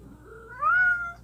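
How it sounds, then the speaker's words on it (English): A pet cat gives a single close meow that rises in pitch and swells in the middle before trailing off, over a quiet background. "there's my cat right on schedule"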